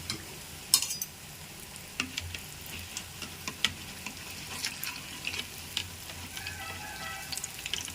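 Pesara burelu batter frying in hot oil, a steady soft sizzle with small crackles and ticking pops scattered throughout, close and fairly quiet, no voices.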